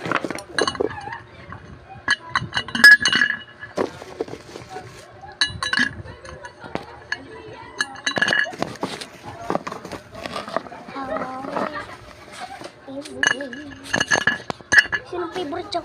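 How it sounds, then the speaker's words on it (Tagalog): Ice cubes drop into an opened tumbler with repeated bright, glassy clinks and rattles in irregular bursts, close to the listener, while a person talks throughout. "Bubuksan ko tong tumbler. Lalagyan ko ng ice tube."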